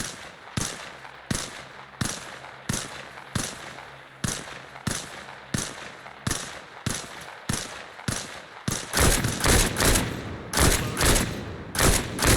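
Video game firefight during a squad training session, with regularly spaced bursts of gunfire thumping out roughly every half second, then turning into a denser, louder volley of overlapping shots near the end.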